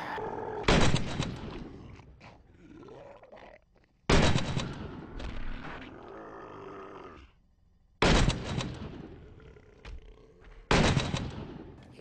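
Gunfire in the survival game 7 Days to Die: four loud, sharp shots spaced a few seconds apart, each followed by a short ringing decay, with quieter game noise in between.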